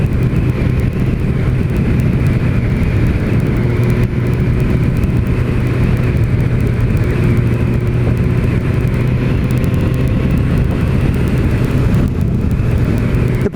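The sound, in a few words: 2006 Suzuki GSX-R 1000 K6 motorcycle riding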